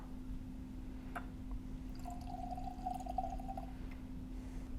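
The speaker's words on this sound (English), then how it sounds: "So let's give her a pour." Weller Antique 107 bourbon is poured into a glass as a soft, steady trickle lasting a second or two. It is faint and close, over a low background hum, with no talk.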